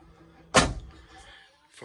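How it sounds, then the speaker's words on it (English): A sliding interior door closing inside a 2022 Thor Outlaw 38KB motorhome, a single firm thud with a short rattle, fairly close, followed by quiet room tone and a faint second knock at the end. "these doors, all sliding doors close."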